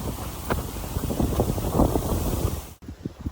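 Strong gusty wind buffeting the microphone outdoors ahead of a thunderstorm, loud irregular rushing bursts that drop off sharply near the end.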